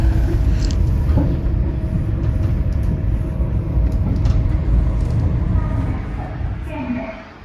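A steady low rumble of a Tokyo monorail train in motion runs throughout, with faint squeals and clicks on top, fading somewhat near the end.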